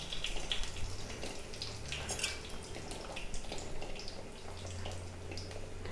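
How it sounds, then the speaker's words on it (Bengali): Panch phoron spices sizzling and crackling in hot oil in a kadai on a gas stove for a Bengali mango chutney, a steady close frying hiss with scattered pops throughout. "ফোড়নটা একটু ভেজে নিই"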